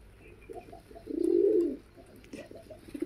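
A pair of local pigeons chase each other, one giving a clear rolling coo in the middle, with softer short coos before and after in a quiet setting.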